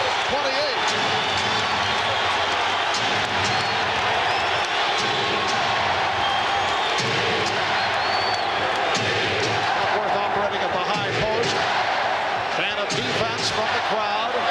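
A dense basketball arena crowd at the 1992 NBA Finals Game 6, Portland Trail Blazers at Chicago Bulls in Chicago Stadium, roars steadily and chants for defense, with a commentator talking over the constant loud din.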